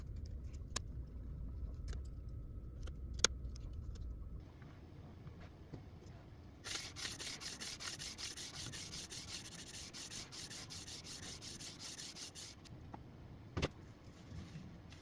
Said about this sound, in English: I was very happy with how well this jig held the rod in place for sanding.